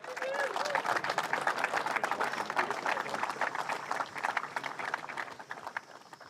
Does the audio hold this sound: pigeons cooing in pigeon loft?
no